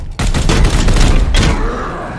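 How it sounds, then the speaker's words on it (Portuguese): A standard shot fired in the turn-based game Warhammer 40k: Chaos Gate - Daemonhunters, a loud booming gunfire burst with a rumbling tail, followed by a second blast-like surge as the echo rolls out. "Vamos só dar um tiro normal, vai."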